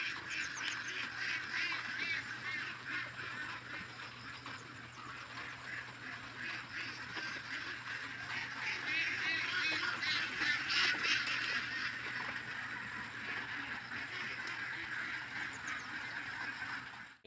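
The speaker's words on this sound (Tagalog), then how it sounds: "yung mga pato ni Camilo nandito sa ating taniman ng palay" A flock of domestic ducks in a rice paddy keeps up a dense chorus of overlapping honking quacks for the whole stretch. The sound is moderately distant and swells slightly midway, with no talking.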